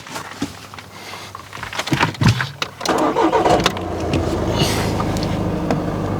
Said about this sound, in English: so I'm going to start the vehicle up.